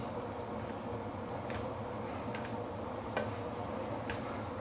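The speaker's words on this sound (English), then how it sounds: "Get ready a chopstick to help fry everything up" Beehoon rice noodles fry in a pan while a chopstick and spatula stir them, making a faint, steady sizzle with light scraping and a few soft taps throughout.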